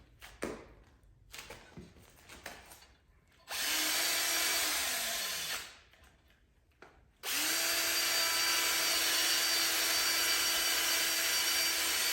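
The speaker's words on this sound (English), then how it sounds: "got something on my drill here." Electric drill used while building a custom grinder stand in a workshop: two long, loud, steady spinning runs with a sustained whine that winds down between them, preceded by scattered handling clatter and knocks.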